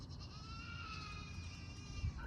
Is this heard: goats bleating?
yes